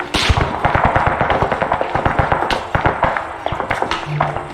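Gunshots cracking overhead in a war video game, a steady stream of sharp sporadic shots and bursts, some near and some distant, with battle noise continuing throughout.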